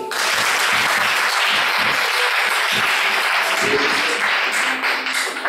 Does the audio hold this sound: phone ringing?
no